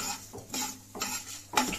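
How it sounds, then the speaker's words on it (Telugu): Spices are stirred and fried in oil in a pan for a Thanjavur-style mutton curry, with three or four distinct scraping stirs over a soft sizzle, close and clear. "ఫుల్ అన్ని మిక్స్ చేసి ఇట్లా వేయించేసుకోవాలా, బాగా వేయించుకోవాలి, నూనెలో వేయించుకోవాలా."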